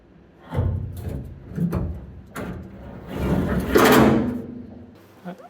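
A small car door being fitted onto a car body in a workshop: a few knocks, thumps and scraping of metal panel handling, close and moderately loud.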